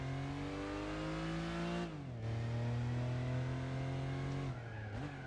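Car engine in Gran Turismo 4 during a braking test from 73 mph, a steady droning rev that drops twice as the car slows, then climbs back, heard alone at moderate level.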